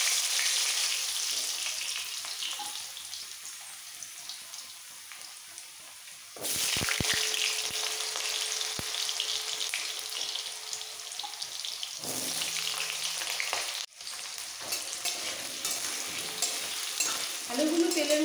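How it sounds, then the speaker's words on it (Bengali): Cut, washed potatoes hit hot oil and fry with a loud, bright crackling sizzle that surges sharply twice as more pieces go in, interrupted by brief scraping knocks of stirring; no one talks. "এবার ধুয়ে রাখা কাটা আলুগুলো ছেড়ে দেবো"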